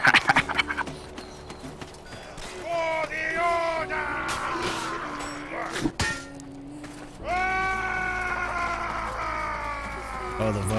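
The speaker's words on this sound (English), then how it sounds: "Are you talking about the Vikings when they run and scream?" Charging Vikings in the medieval combat game Chivalry: Deadliest Warrior let out long, wavering battle screams and yells that rise and fall in overlapping bursts amid clashing game noise, loud and close throughout.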